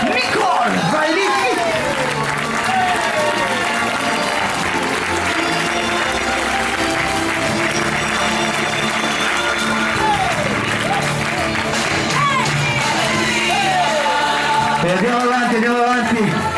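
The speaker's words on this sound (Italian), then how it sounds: "Ha un grosso applauso, un grandissimo applauso." Audience applause and cheering at a resort animation team's black light and fire show, a long sustained roar of clapping and crowd noise, with an announcer's amplified voice talking and whooping over it throughout.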